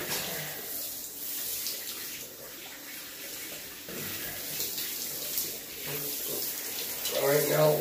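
Warm shower water runs steadily and hisses with a broad, even spray throughout, close to the microphone, with a slightly louder splash near the end.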